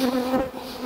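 Honey bees swarm around an open hive during a beekeeping inspection, a close, steady droning buzz that holds for the whole moment with no voices.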